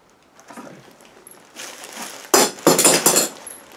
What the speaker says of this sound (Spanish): Cayó herramienta, no ha pasado nada.